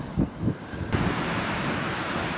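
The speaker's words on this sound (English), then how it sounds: "you might be able to hear the wind, sort of northwest-west, 25 to 30 knots" A strong west-northwest wind of 25 to 30 knots gusts against the microphone at a surf beach, with a few heavy buffets at first and then a constant roar of wind and surf.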